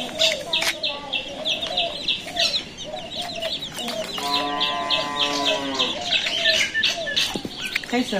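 A mother hen with her chicks clucks repeatedly at close range among other farmyard chickens, broken by a drawn-out, wavering call, while people talk nearby.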